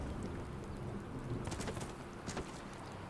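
Rain pours down in the video game Skyrim as a steady, dense hiss of falling drops with low rumbling underneath and a few sharper splashes, with no talk.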